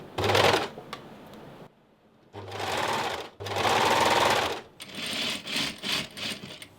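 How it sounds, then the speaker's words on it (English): An overlocker stitches stretch fabric with elastic, running in several loud bursts of whirring, rattling machine noise separated by short pauses, with no voices. "I think I'm just going to try and overlock it on."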